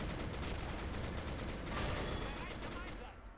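Dense, continuous gunfire and explosions from the Men of War: Assault Squad 2 video game, with a British ambush involving mortars, anti-tank guns and machine guns, sustained and moderately loud before easing off near the end.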